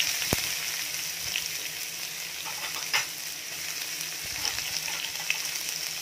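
Onion fries in hot oil with spices, giving a continuous moderate sizzle and crackle, with an occasional sharp tap or clink of a utensil against the pan.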